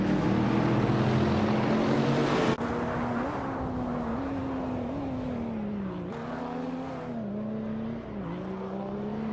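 Race cars in a racing video game, a close engine whining loudly with wavering pitch as it shifts and surges, after an initial louder burst and a sudden drop, then a steady drive.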